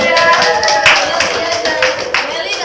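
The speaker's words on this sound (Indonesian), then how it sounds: "silakan bagi tepuk tangan kepada Mary" A classroom group applauds a student, dense clapping sustained throughout, close and fairly loud with a few voices mixed in.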